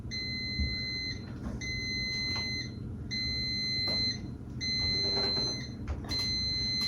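A bread machine gives a series of short, high electronic beeps, repeating at an even pace over a quiet low hum.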